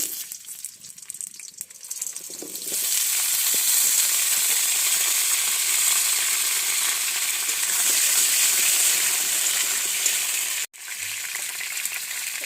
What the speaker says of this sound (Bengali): তেল দিয়ে দিল এবার আলুগুলো দিচ্ছে